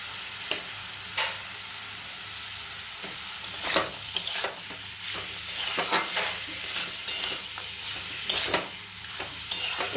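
Ridge gourd and potato with bori being stirred in a frying pan, producing a steady sizzle broken by repeated scraping strokes of a spoon at an irregular pace, close and clear with no talking.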